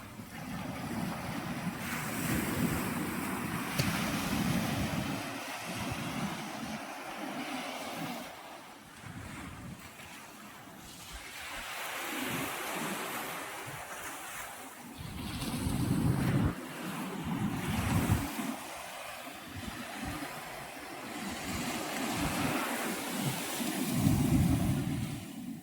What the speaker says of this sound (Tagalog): Ganda ng dagat, oh.